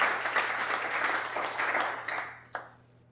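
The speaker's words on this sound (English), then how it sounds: "Quick round of applause and thanks to them for sponsoring the event tonight." An evening business event audience gives a quick round of applause for a sponsor, steady dense clapping that fades out after about two and a half seconds, ending on a single sharp clap.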